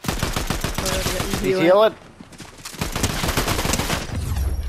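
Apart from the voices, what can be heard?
shotgun fire in a video game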